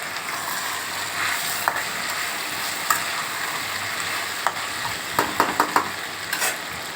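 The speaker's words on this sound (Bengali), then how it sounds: "দিয়ে এটাকে ভালো করে কষতে হবে।" Chicken for chicken tehari being stir-fried in a pan: steady sizzle of hot oil with occasional sharp scrapes and clacks of a spatula, close and continuous without talk.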